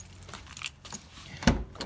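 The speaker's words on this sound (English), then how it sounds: "Get the keys," Keys jangle briefly near a 2012 Mini Countryman during a headlight replacement, a short metallic rattle that peaks near the end of the clip over faint background noise, with no talking.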